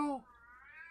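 A cat gives a single drawn-out meow, loud and close, with a faint second cry trailing off beneath a low voice. The moment falls during a game session.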